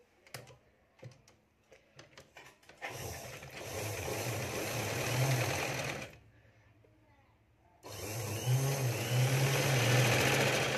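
A sewing machine stitches a sleeve in two long, steady whirring bursts with a pause between, after a few light ticks and taps from handling the fabric, all heard close and clear.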